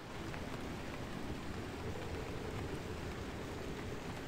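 Steady rain in the video game Pacific Drive, a dense, even hiss of falling water that continues unbroken and fairly loud, with no voices over it.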